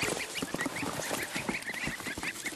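A flock of domestic geese from a Turkish breeding project in Yozgat honk in a dense, overlapping chorus of short, nasal calls that continue throughout the clip, close and busy.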